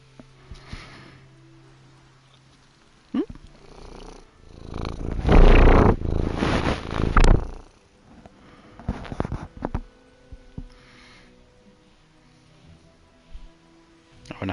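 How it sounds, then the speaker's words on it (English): A cat purrs close and loud in bursts, with quieter stretches between them, against soft background noise with rain playing in the Anno 1800 city-building game on PS5. "Suddenly a cat."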